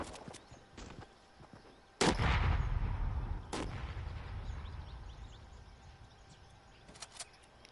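Gunfire from players shooting in the video game Arena: a few sharp distant shots, then one loud booming blast with a long rolling decay, followed by scattered further shots.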